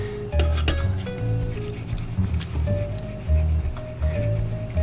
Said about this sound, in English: erase the contacts, and that'll get off a lot of the gunk